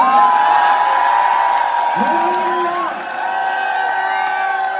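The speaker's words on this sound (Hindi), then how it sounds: "तो जोर से ताली बजा के, हल्ला मचा के बताओ मजा आया नहीं आया?" Crowd at a large gathering claps, whoops and cheers at once, a loud, dense wash of noise with rising shouts over continuous applause.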